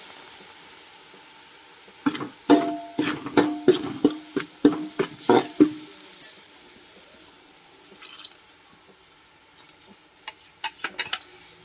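Raw jackfruit sizzles in a pan while a utensil stirs and scrapes in quick bursts, then a quieter stretch with a few more scattered clinks as turmeric is added.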